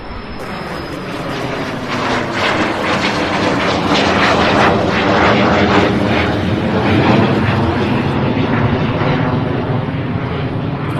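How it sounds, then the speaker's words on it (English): A jet airliner roars down the runway on takeoff at Louisville SDF airport, a loud, sustained engine rumble with wind buffeting that swells and holds steady throughout. "Nice surprise there, taking off before that Allegiant Air lands, which is doing right now."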